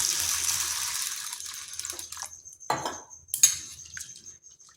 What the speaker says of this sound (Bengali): সাবুটাকে ভালোভাবে ধুয়ে নিচ্ছি।